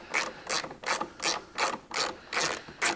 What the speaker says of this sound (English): we've got to get all those screws out before we can get this part off